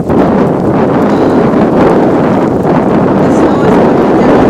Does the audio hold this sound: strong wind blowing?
yes